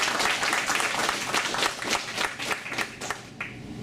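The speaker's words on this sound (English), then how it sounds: "This is where we're supposed to applaud." Dense applause from an audience at an Air Force retirement ceremony, many hands clapping steadily and fairly loud for the whole stretch, with no break or lull.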